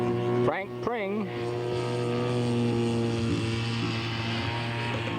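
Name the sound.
P-51 scale model aircraft flying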